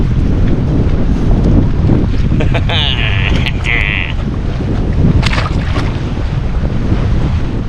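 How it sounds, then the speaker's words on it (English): Strong wind buffets a boat out bass fishing at night, a loud continuous rumble of wind over the microphone with water lapping and a few brief tones and clicks. "Man, the wind is blowing us."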